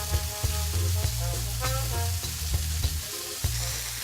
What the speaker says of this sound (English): we want to turn it around and give it a nice even brown on all sides